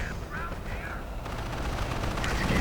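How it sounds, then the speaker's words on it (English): Strafing-run gunfire in a real-time strategy video game, a rapid rattling burst of shots that swells louder over about two seconds, with game sounds beneath. "And another strafing run"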